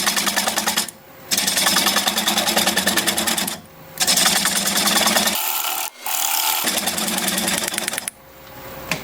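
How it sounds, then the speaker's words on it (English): Apple wood tenon being cut on a wood lathe spinning at about 600 RPM with a 3/8 inch bowl gouge, giving a loud continuous scraping, rasping whir that breaks off in a few short pauses between passes. "I'm going to use a 3/8 inch bowl gouge and commence removing that tenon."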